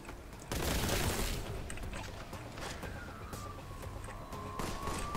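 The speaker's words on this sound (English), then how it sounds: "someone's still shooting" Gunfire in the Warhammer 40k shooter Boltgun, a loud dense burst of rapid shots followed by lingering rumble, a rising whine and scattered further shots, close and without talk.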